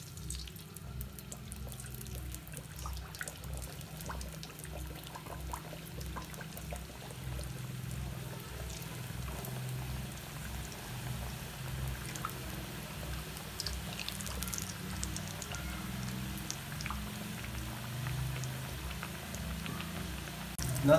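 Samosas deep frying in hot oil in a kadhai over a medium flame, a continuous soft bubbling sizzle that stays fairly quiet and steady throughout.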